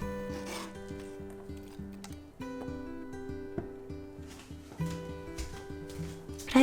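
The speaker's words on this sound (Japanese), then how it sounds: "トマト、ズッキーニ、エリンギをスライスします。" A kitchen knife slices tomato, zucchini and king oyster mushroom with soft, scattered cutting strokes, heard faintly beneath steady background music.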